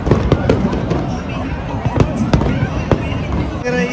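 Canada Day fireworks and firecrackers burst in Windsor in a rapid run of sharp, loud cracks and pops over a continuous crackling din, with people talking faintly throughout.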